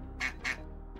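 A video game duck quacks twice in quick succession, close and clear, followed by a fainter third note.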